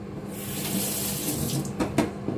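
Tap water pours steadily through a colander at a kitchen sink while rice soup is being made, a continuous close splashing rush with a few brief louder splatters near the end.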